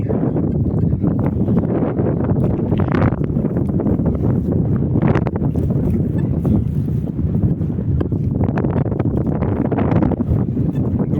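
Loud, continuous wind buffeting the microphone, a dense low rumble that swells and dips but never stops.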